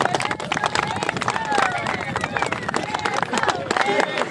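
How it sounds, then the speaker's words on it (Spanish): Wedding guests applauding newlyweds just pronounced husband and wife, loud brisk clapping mixed with crowd chatter and cheering voices, close and continuous. "Un fuerte aplauso."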